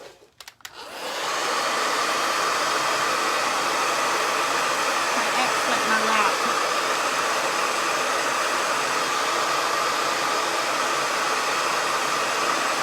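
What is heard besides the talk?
blow dryer running to dry paint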